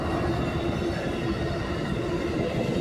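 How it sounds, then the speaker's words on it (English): A train rolls past close by, a loud, steady rumble of wheels and cars that fills the whole moment without letup, with no voices. "A train came by today."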